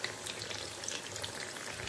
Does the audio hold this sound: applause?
no